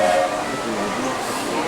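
The Big Thunder Mountain ride train at Magic Kingdom rolls along, a steady loud rumbling clatter of the cars on the track with a brief tonal whine at the start, close by and continuous.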